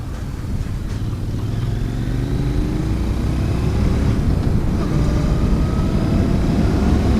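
A Royal Enfield Interceptor 650 motorcycle rides along a road, its engine a steady low drone with rising revs and a rumbling, wind-buffeted roar that builds slightly and holds through the ride.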